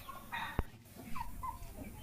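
A tethered hen on a village farm gives a few soft clucks, faint and fairly close, with a sharp brief knock and low rural background noise.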